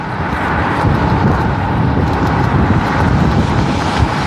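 Dualtron X electric scooter accelerating on the road, a steady loud rush of motor whine mixed with heavy wind noise, continuous for the whole stretch with no voices.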